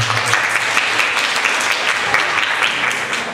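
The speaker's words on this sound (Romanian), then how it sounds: "Aplauze încă o dată pentru cei doi" Sustained applause from an audience at a school arts performance for two children, dense steady clapping filling the hall with no talk over it.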